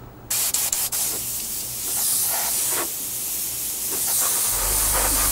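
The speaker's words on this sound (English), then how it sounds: "Bit of gloss in your airbrush, and what we want to do, we just want to give it a light coat of gloss." An airbrush lays a light gloss coat on a 1/48 scale HobbyBoss F-14D Super Tomcat model, producing a steady, close, loud hiss that follows a few brief clicks at the start, with no voices.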